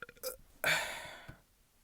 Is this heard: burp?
yes